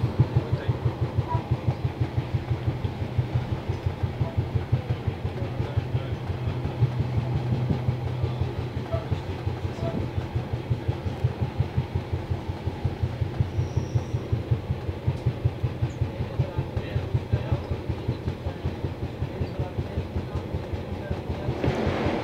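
Riding aboard a Northern Class 142 diesel railbus between Newcastle and Sunderland, a steady, evenly spaced clickety-clack of wheels over rail joints sits above a constant low engine rumble throughout.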